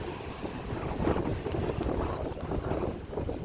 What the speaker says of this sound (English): The wind and the clouds actually make it more pleasant in many ways.